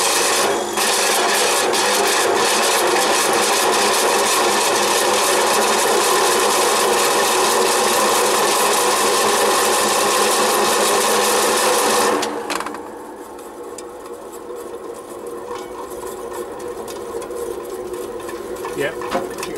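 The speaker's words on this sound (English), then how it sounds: "got a report of a noisy motor" A worn-out Copeland condenser fan motor runs at minimum speed, a loud, rough grinding and rasping whir that stays steady for about twelve seconds, then drops sharply to a much quieter hum.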